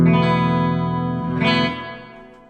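A sustained, distorted electric guitar chord rings out with a spacious reverb tail, swelling briefly before fading away on its own.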